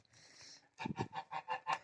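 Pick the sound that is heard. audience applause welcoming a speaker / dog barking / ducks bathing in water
ducks bathing in water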